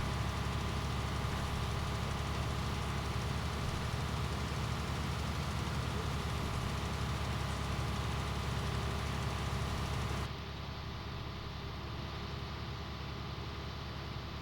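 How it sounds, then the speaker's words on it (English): Tractor engine working under load in the Farming Simulator 19 video game, a steady low drone with rhythmic knocking that drops in level and brightness near the end. "you can just hear the thing under load and working. So it's not a constant engine noise."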